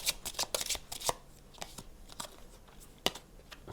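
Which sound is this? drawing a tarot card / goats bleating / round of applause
drawing a tarot card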